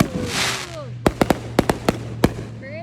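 Backyard fireworks go off in a quick series of about eight sharp, loud bangs spaced unevenly over a couple of seconds, with whistling launches beforehand and people talking and cheering nearby.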